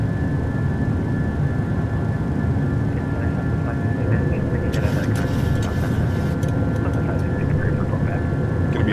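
A PMDG 737-800 in Microsoft Flight Simulator takes off from Nashville, its engines producing a loud, steady jet roar throughout, with light clicks and rattles partway through.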